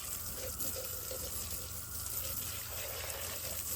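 Running water rinses a freshly caught northern pike, scaled and slimy, outdoors; a steady close splashing flow lasts throughout with no talk.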